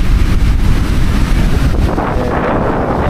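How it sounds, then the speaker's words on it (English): Strong wind buffets the microphone in a constant low roar, with distant surf and waves rumbling underneath throughout. "it is super windy"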